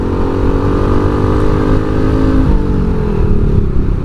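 Honda Supra motorcycle engine revving steadily under throttle while riding, a loud continuous mid-pitched drone with a slight pitch drop partway through, no voices.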